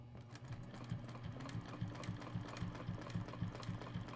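A sewing machine stitches a quilt with a ruler foot, its needle running in a fast, even mechanical patter over a low motor hum, quiet and steady throughout with no talking.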